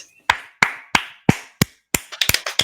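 A single person claps their hands, five evenly spaced sharp claps followed by a quicker burst of six or seven, close and clear with no talking.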